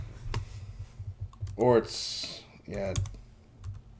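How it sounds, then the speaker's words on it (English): Keys clatter on a computer keyboard in quick, irregular bursts, close and fairly clear, while people talk and murmur over the typing. "Let's just start typing, shall we?"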